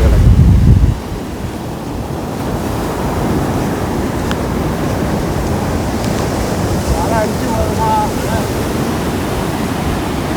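Ocean waves surging and washing along the seashore, a loud continuous roar of surf with wind buffeting the microphone at the start.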